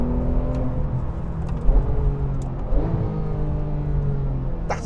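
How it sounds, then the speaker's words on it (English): A 2013 Porsche 911 GT3 engine drones and revs with quick shifts in pitch as its automatic gearbox changes gears rapidly, close and steady, with brief sharp bursts near the end. "Listen to how fast this thing changes gear."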